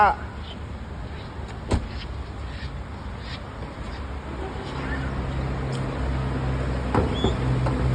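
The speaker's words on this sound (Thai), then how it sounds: "กระจกไฟฟ้า" The electric power windows of a Honda HR-V whir with a steady motor hum that grows a little louder partway through. Soft background car noise and faint voices sit around it.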